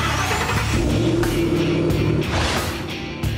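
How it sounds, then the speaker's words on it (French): A Ford Mustang's 650-horsepower V8 revs hard and loud, its deep roaring engine note surging and holding steady close by, then easing slightly toward the end. "Et dans le bruit du V8 de 650 chevaux qui se déchaîne."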